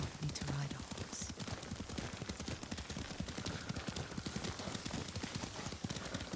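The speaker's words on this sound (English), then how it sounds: "Lord Sakai taught me to ride a horse" Horse hooves clip-clop in a fast, steady galloping rhythm in the video game Ghost of Tsushima, running continuously under spoken dialogue.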